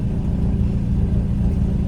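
A 2.5-litre engine swapped into a Mazda NC MX-5 idles steadily just after its first start, a continuous low, loud rumble with a regular throb and no voices.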